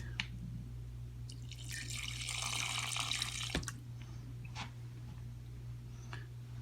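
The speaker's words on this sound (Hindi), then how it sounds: "थोड़ा सा और पानी डालेंगे।" A brief stream of water pours and splashes into a pressure cooker of meat, then stops, leaving a low steady hum and a few faint drips.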